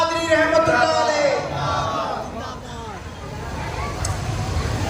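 A large crowd at an urs gathering roars chanted responses to religious slogans, loud overlapping voices swelling together and then fading into a murmur, with outdoor rumble beneath.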